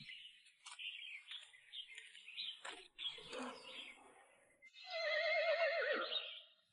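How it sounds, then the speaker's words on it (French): A saddled, bridled village horse gives a loud, quavering whinny near the end, after quieter scattered chirping and rustling sounds, in a rural village setting. "Ce doit être un cheval du village."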